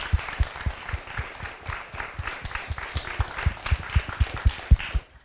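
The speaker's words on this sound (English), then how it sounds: "So just give you guys a round of applause real fast." An audience at a morning alumni panel session applauds the panelists, a moderate round of distinct claps with a clear rhythm that builds slightly, then stops abruptly at the end.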